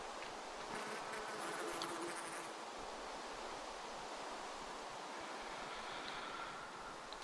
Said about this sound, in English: check out those bees that we've got in the crossbreeding one